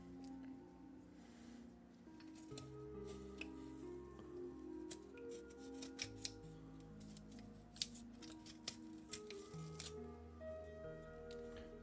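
Small scissors snip repeatedly at a miniature model base, with crisp irregular cuts close up over faint background music and no talking.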